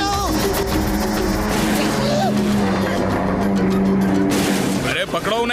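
A cartoon car driving fast and skidding, a loud continuous engine roar with squealing tires, under overlapping character voices and music.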